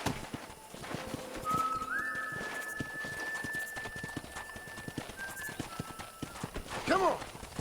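Steady clip-clop of horse hooves in a brisk rhythm in Red Dead Redemption, with a long whistle tone above and a horse whinny near the end.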